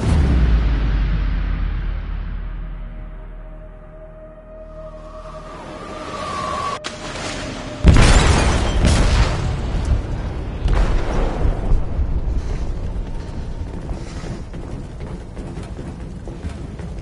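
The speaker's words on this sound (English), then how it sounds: "They detonated an explosive in the hold." Explosion in a ship's hold in the Detroit: Become Human video game, a sudden heavy boom after a low rumbling lead-in, followed by a long roaring, crackling wash of debris and water that slowly fades.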